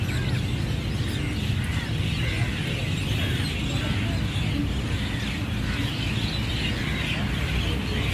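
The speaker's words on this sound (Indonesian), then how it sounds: "kicau burung ramai" A dense chorus of birds chirping and calling at once, steady and busy throughout, with no one speaking, at a night market in Johor Bahru.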